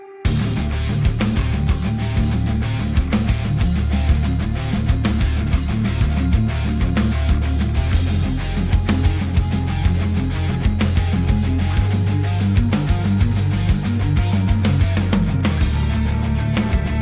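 Heavily distorted electric guitar driven through a Retina Band Bigs distortion plays a dense, continuous riff with steady rhythmic chugging over a full low end for the whole stretch, loud and with no voices.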